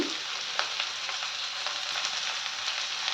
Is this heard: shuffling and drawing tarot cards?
no